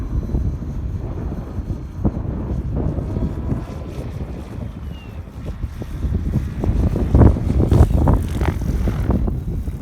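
Steady strong wind roars and buffets the microphone outdoors, loud and continuous with gusty surges that build toward the end.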